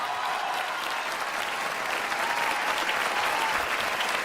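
Steady, dense applause from a seated audience at a mushaira poetry gathering, a continuous wash of many hands clapping at even loudness throughout.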